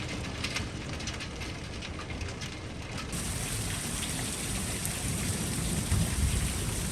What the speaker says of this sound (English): Then we had to wait for another storm to roll through.